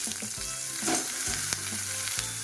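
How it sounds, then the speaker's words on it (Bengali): Capsicum and carrot fry in hot oil with a steady, close sizzle, broken by a few sharp clinks and scrapes of a spatula stirring the pan. "এটা একটু লাল লাল ভাজা হোক।"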